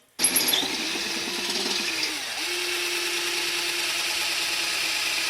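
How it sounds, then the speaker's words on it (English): A power tool drives grade 8 bolts into a Poison Spyder BFH steel bumper on a Jeep Wrangler, a steady close motor whine that starts abruptly, dips briefly near the middle, then holds a constant pitch to the end with no talk. "Last bolt is drilled."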